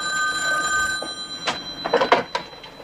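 Indoor telephone bell rings in a steady, sustained trill, followed by a few short bumps and clatters near the handset.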